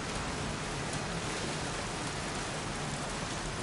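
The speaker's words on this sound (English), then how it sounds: "Goddamn rain. Soaking wet." Steady heavy rain hisses in a video game, a dense even wash of noise with no breaks or distinct drops, moderately loud and unaccompanied by talk.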